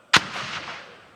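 A single loud, sharp report from a 40mm grenade launcher fitted under a K2 rifle, with a reverberant boom that rolls on and slowly fades after the shot.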